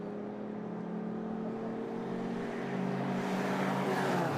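A Frazer Nash historic race car charges through Lola Corner at a historic racing festival, its engine note rising in pitch and growing louder as it accelerates past, over a steady circuit hum.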